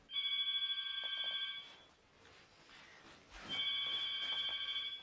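An old-style telephone bell rings in two long trilling bursts separated by a short pause, clear but moderately quiet in an indoor setting.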